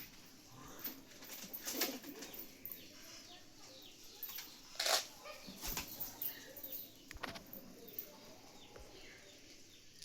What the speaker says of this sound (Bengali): আর একটা পায়রা নামলো।